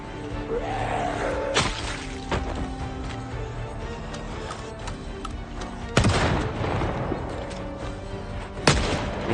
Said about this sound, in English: Get a few shotgun hits.